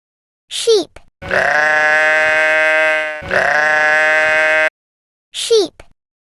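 Sheep bleating twice in a row, loud, long wavering calls with a tremulous quality, framed by short spoken words at the start and end.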